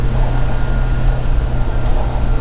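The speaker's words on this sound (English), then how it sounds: "Sorry for the wind noise if it's coming in" Wind rushing through the open window of a Subaru Sambar kei truck driving on a hot day in Guam, a steady loud buffeting roar with low engine rumble beneath.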